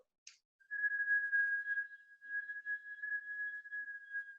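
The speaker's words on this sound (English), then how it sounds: "You pucker your lips into a whistle." A single steady whistle through puckered lips during a breathing and meditation exercise: after a brief breathy onset, a soft, thin, near-constant tone holds for nearly four seconds with a slight dip midway, close and quiet against silence.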